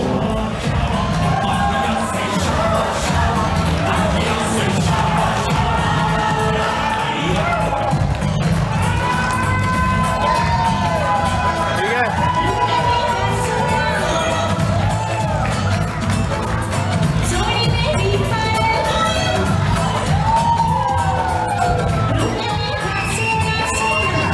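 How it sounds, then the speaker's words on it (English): Wedding reception guests cheer, whoop and shout in a loud, sustained wave of crowd noise, with excited voices rising over one another throughout. "A nice round of applause once again for the parents of our group"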